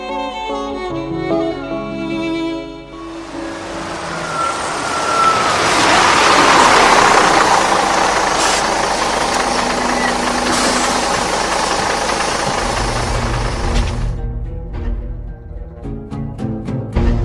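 A bus engine idling, a loud steady diesel rumble with a broad mechanical roar that swells in the middle and fades, with background music tones at the start and end.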